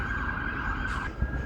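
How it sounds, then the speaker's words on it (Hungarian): An ambulance siren sounds outdoors as the vehicle passes: a steady, loud, sustained tone held over continuous traffic rumble, fading slightly toward the end with a brief low thump near the close. "nem igaz, a mentőautó, vagy mi ez?"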